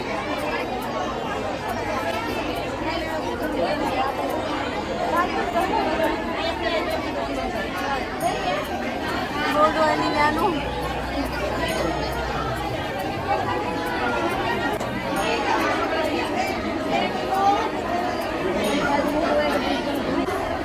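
Crowd chattering at a temple on Makar Sankranti, a dense, continuous wash of many overlapping voices close and far, with a speaker talking over it.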